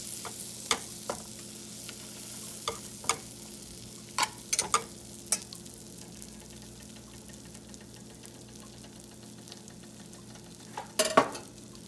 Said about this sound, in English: Now, you add your butter. And make sure it's completely melted